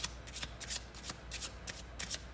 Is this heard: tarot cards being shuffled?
yes